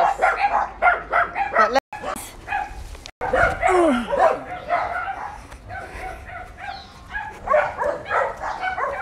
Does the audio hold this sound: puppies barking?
yes